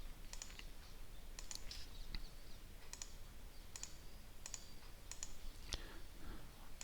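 Computer mouse clicks placing points while digitizing irrigation assets in QGIS: about ten crisp, close clicks, some in quick pairs, spaced at uneven intervals over a low steady background hiss.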